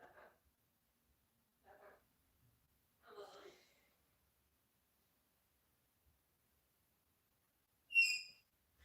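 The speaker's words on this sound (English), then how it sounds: "I'm not enjoying those high-pitched screeches" After a few soft, scattered sounds, a single sharp, high-pitched parrot screech rings out near the end.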